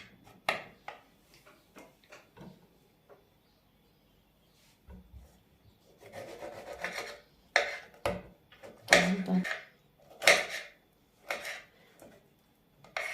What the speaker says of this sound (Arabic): نقطع الفلفل